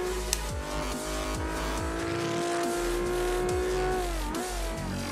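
A rear-wheel-drive race car engine in the Forza Motorsport 5 video game revving hard through repeated gear shifts, loud and close with a brief tire squeal.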